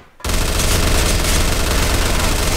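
A P90 submachine gun in Arctic Combat fires in one continuous rapid burst, loud and close, starting abruptly after a brief quiet moment and roaring without pause.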